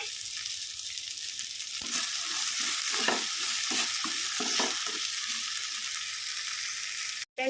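Onion and roasted gram dal being stirred together in a hot pan: a continuous frying hiss with a run of rhythmic spatula scrapes in the middle, ending in an abrupt cut.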